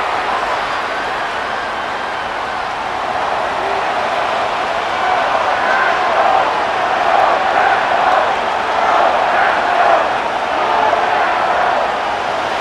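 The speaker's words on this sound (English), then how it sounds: "This crowd doing everything they can before third and goal" Stadium crowd roar in Madden NFL 25 during a Tennessee Titans versus Green Bay Packers game before third and goal, a sustained dense wash of cheering and murmur that swells slightly midway and holds steady throughout.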